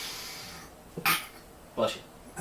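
Two sharp, loud bursts close to the mic, a sneeze-like explosion followed by another short outburst, after a soft hiss.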